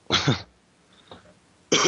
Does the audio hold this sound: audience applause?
no